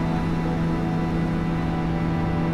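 A motorcycle engine held at 8,000 RPM gives off a steady, loud, buzzing drone that stays level and unbroken throughout, with no voices.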